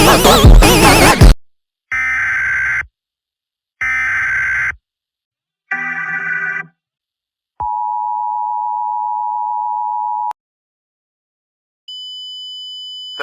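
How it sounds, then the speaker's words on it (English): Emergency alert system tones: a loud burst of noise, then three harsh buzzing data bursts, a shorter chirp, a long steady attention tone and a final high beep, each separated by silence. "This video will contain veiled emergency alert tones, loud music and sound effects"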